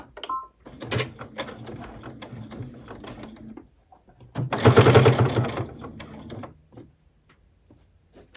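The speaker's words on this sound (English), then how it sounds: "I'll turn it around to the front and sew it down" Sewing machine stitching fabric binding onto a quilted potholder at a 3.0 stitch length, a steady mechanical whir in two bursts, the second louder, with soft handling clicks between.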